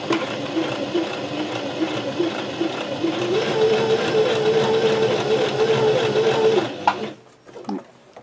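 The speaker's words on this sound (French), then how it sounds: "je vais réaliser ma couture au point droit sur toute la longueur" A sewing machine runs a long straight seam on a tote bag, a steady close mechanical whirring hum for several seconds before it stops and a few faint handling sounds follow.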